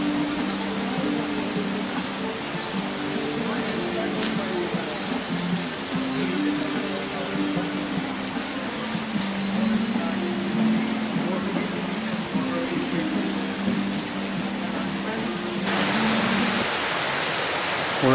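Bhagsu waterfall near McLeod Ganj, India, heard as a steady, broad rushing roar of falling water throughout, with people talking over it.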